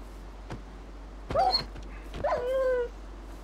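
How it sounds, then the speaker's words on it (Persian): A dog in the Minecraft video game gives a few short yips and whimpering barks, fairly close, over a low steady background hum. "او سگ بود"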